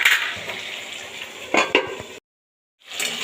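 Stingray fish curry, made without onion or garlic, sizzles as it is sautéed in a pan, with close scraping stirs and utensil clinks, then a sudden break of silence before the frying resumes.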